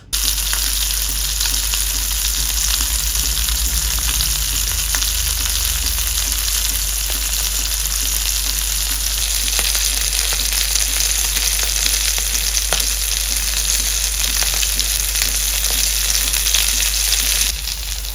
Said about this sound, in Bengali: মাছগুলো ধীরে ধীরে ভাজা হয়েছে যাতে উপরের পিঠটা বেশি পুড়ে না যায়